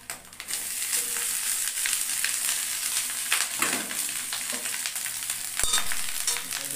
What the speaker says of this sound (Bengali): এবার আমি আস্তে আস্তে করে রাইসগুলো দিয়ে দেবো।